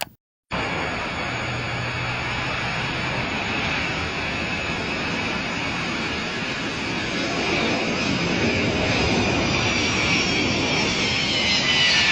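An airplane in what was shared as an emergency landing, its loud, steady engine roar running continuously for the whole stretch after a brief silent start, with no voices heard.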